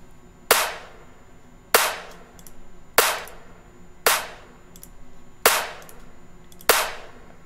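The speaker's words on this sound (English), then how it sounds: "you can hear that, like, that snare is like super fat compared to what it was before" A compressed snare drum beat programmed in LMMS hits six times at an even, steady pace, each strike a sharp, punchy crack with a short decaying tail, loud and alone without talk.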